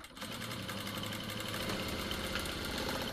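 A sewing machine stitches a straight seam joining the shoulders of a plain blouse, its needle running in a fast, steady mechanical chatter at close range.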